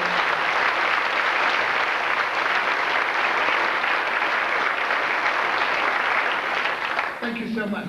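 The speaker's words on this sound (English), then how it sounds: "let's give them a nice applause." Sustained audience applause at a middle school awards banquet honoring sixth grade straight A students, steady and full for about seven seconds before thinning out near the end.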